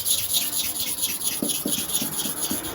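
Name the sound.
clipper blade rubbed on a super hard manual sharpening stone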